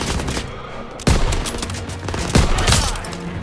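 Dense World War II combat gunfire from the Call of Duty WWII campaign, with a sustained rattle of rifle and machine-gun fire and two loud nearby bursts standing out above the constant battle noise.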